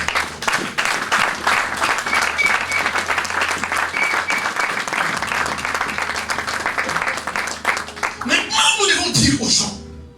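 A church congregation applauding to acclaim the Lord, dense rhythmic clapping from a large crowd sustained for about eight seconds, with voices and a cheer rising as the clapping fades.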